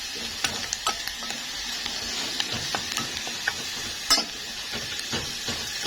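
Cow trotters fry and sizzle in butter in a pan, a steady close crackling hiss broken by scattered pops and spits, with no voices over it.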